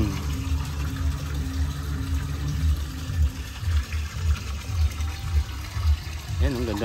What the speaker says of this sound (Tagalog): ang ganda ng patubig ni sir